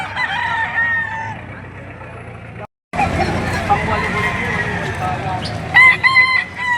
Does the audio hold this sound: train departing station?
no